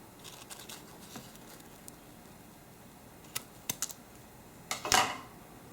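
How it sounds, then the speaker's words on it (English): Scissors trim excess ribbon from a bow being made for a decorative gift box: a few faint, quick snips followed by a louder, fuller cut near the end, with no talking. "so I'm just going to trim that off."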